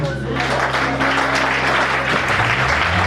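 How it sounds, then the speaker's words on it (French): A church congregation standing and applauding, dense sustained clapping with cheering voices mixed in, loud and steady throughout, over a low organ or keyboard drone. "Je veux que tu te lèves pour acclamer ça d'abord"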